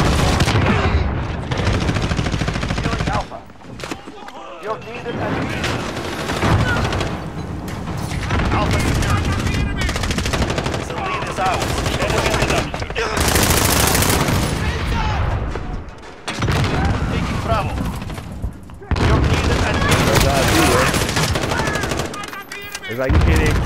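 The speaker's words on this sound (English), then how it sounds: "everyone's shooting at the same person at the same time" Dense, continuous gunfire from many players in Call of Duty: Modern Warfare, a chaotic Domination match on the small Shipment map, with rapid automatic bursts and explosive booms overlapping almost without pause, loud and close, briefly dropping out a few times.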